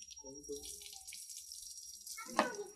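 Water splashes and trickles while hair is being washed, a soft pouring rush at moderate distance with a brief louder splash near the end.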